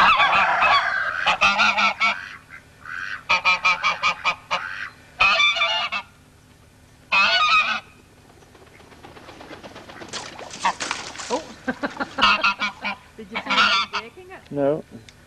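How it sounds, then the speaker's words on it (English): A bird honks on icy water, with loud repeated honking calls in separate bursts alongside splashing and rustling, heard close up outdoors with no talk over it. "There's the bird."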